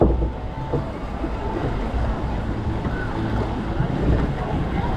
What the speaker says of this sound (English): good log flume, that.